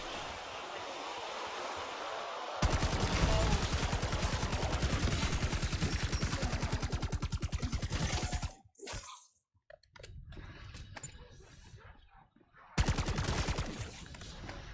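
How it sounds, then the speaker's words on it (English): Semi-automatic marksman rifle fire in a video game, a fast string of sharp, evenly spaced shots that stops, resumes briefly, then breaks off again, with a voice talking in between. "Oh, it's a marksman rifle, not an assault rifle."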